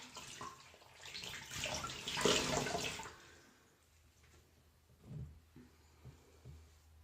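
Warm water runs from a tap in a rush lasting about three seconds, then falls away to quieter splashes and trickles, close and alone.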